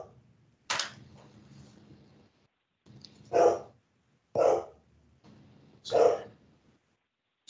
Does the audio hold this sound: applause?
no